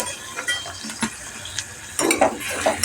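About a quarter kilo of onions frying in a pan for a country-chicken curry, with soft sizzling and a few spoon scrapes and clinks against the pan.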